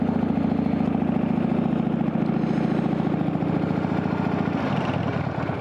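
A Harley-Davidson Softail Springer motorcycle idles close by with a loud, steady, throbbing rumble throughout, and the pulse shifts slightly near the end, with no voices.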